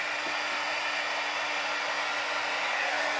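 A heat gun runs steadily and loudly close by, a constant even roar with a faint whine, used to shape fabric ribbon over a silicone spoon.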